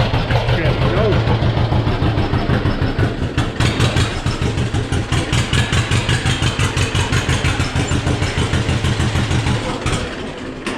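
An engine driving a lag bed planer as it planes lumber chugs in a fast, steady rhythm, loud and close throughout, easing slightly near the end.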